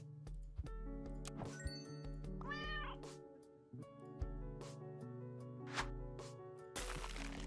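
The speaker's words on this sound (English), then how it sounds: "Cat." Several cat meows from the game Super Auto Pets ring out over steady game music with chiming notes, followed by a brief burst of noise at the end.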